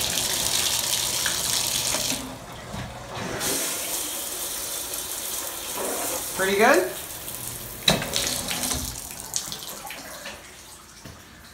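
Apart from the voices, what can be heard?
bathtub tap running water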